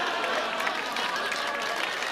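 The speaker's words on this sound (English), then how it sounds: "let's give him a nice big round of applause" Audience applause at a magic show farewell performance aboard the Enchantment of the Seas, a dense, steady wash of clapping filling the whole moment at moderate loudness.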